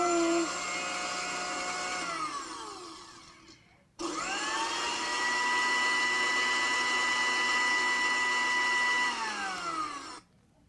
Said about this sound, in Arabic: إنه صوت الخلاط الكهربائي، وهو صوت مزعج جدا